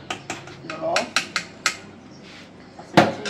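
Hard beans are mashed in a metal cooking pot for a Cuban bean stew, producing a series of sharp, irregular clanks and knocks. One heavier thump comes near the end.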